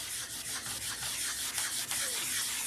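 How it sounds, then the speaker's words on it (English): Fine sandpaper rubbing back and forth over a car's clear coat, spot-sanding to remove shiny areas, a continuous close hissing scrub with rhythmic strokes. "sanding in a spot to get all the shinies out of it"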